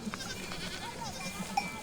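Domestic goats grazing in harsh remote country give a few faint, wavering bleats over a soft outdoor background, with a distant light clink now and then.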